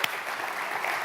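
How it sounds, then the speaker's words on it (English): A brief burst of dense audience applause fills the room, a steady crowd patter at moderate loudness. "Let's do an applause."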